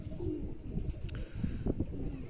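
A Madrasi-desi cross female pigeon coos in low, soft repeated phrases, close by, with a few faint chirps mixed in and no talk.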